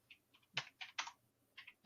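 Quiet, close typing on a computer keyboard, a handful of light irregular key clicks in short bursts with no talking.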